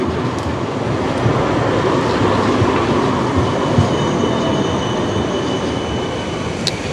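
An Amsterdam number 2 tram rolls past near Central Station, a loud, steady rumble of wheels on rail with faint squeals and clicks, close by and without talk.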